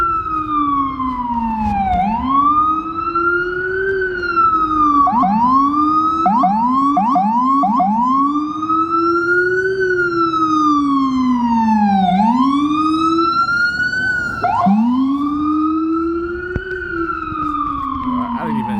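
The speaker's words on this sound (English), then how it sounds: "And then it comes with the sirens." A loud siren wails continuously nearby, its pitch sweeping up and down in repeated cycles, with several quick yelping bursts mixed in and no talking.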